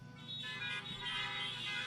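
Car horns honk from a crowd of parked vehicles at a drive-in film festival, several overlapping toots merging into a sustained, moderately distant chorus with no speech.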